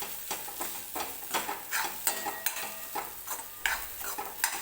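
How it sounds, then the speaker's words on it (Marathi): Ground masala paste being sautéed in oil over low heat, soft sizzling with frequent rhythmic stirring scrapes and light utensil taps, close and alone. "हा मसाला मी व्यवस्थित तेलामध्येच परतून घेते"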